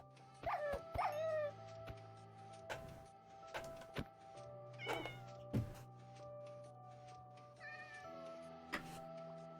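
Cats meow and yowl repeatedly in a Minecraft game, with scattered short dog yips among a clutter of clicks and game effects, all fairly quiet.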